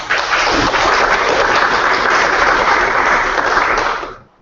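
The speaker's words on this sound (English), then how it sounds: "Just a round of applause." Round of applause at a live board meeting, a dense burst of clapping that holds steady for about four seconds before fading out quickly, heard alone without talk.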